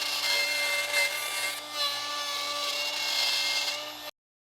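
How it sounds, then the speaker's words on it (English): A plunge router bites into wood to clear the recess for a bowtie patch over a crack, a steady high whine with a grinding cutting edge that holds close and loud for about four seconds, then stops abruptly. "So I'll turn it on, plunge it down, and then start removing that material."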